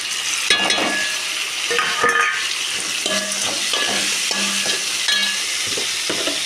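Chopped tomatoes and onions fry and sizzle in a pan, a steady hiss broken by repeated scraping and stirring strokes, close and continuous with no talking.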